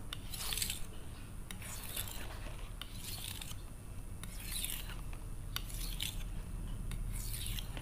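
A knife blade is pushed and drawn across a corundum whetstone to form a micro bevel, giving faint, rhythmic scraping strokes about once a second over a low background hum.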